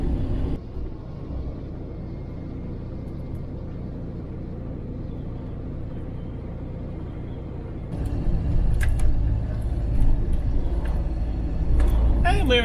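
18-ton truck driving through a tunnel, a steady low engine rumble that swells louder and more resonant partway through, with road noise reverberating around the cab.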